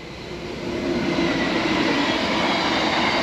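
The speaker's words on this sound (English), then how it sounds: "You might see a train in a minute," A train rumbles past nearby along the Kennet and Avon Canal in autumn, its broad steady roar swelling slightly and holding loud, with faint wheel noise in the wash.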